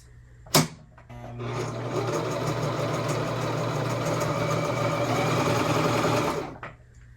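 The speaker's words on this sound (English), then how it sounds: "We are gonna need to do some test fabric to see if it's sewing right." A sewing machine runs a continuous stitch on test fabric while making shorts, a steady close whirring drone lasting about six seconds, preceded by a sharp click as it starts and tapering off as it stops.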